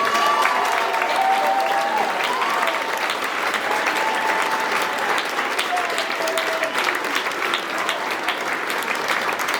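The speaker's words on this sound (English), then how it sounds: "Can I get a round of applause for Mrs. Felix nominee, Mr. Nicholas Molender." Sustained applause from a school awards ceremony audience honoring a student of the quarter nominee, steady and dense for the whole stretch, with faint cheers and voices rising above the clapping.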